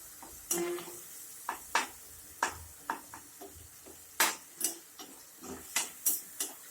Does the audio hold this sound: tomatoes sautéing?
yes